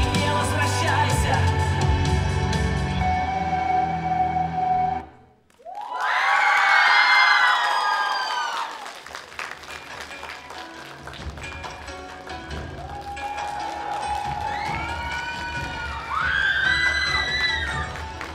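A crowd claps, cheers and shouts as performers leave the stage after music cuts off. The whoops and children's cries swell, ease to scattered clapping, then flare up again.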